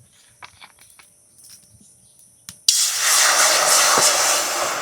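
Water poured into a heated kadai (wok) bursts into a loud, steady sizzling hiss after a few quiet seconds of faint kitchen sounds, and it keeps hissing to the end.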